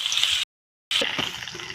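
Crushed garlic and ginger frying in a pan give a soft, steady sizzle that drops out briefly before returning with faint stirring taps, heard close and alone.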